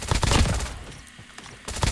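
Rapid automatic gunfire from a high-recoil weapon in COD Mobile, a dense loud burst of shots that pauses briefly and then resumes, with no talking.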